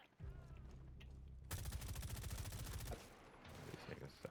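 Rapid automatic gunfire from a Rainbow Six Siege match rattles in a dense burst of shots lasting about a second and a half, with a player's voice talking around it.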